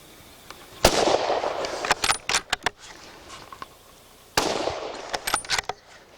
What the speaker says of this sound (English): Watch closely at Carl's total surprise when the gun fires prematurely, but he is still able to down a nice pig.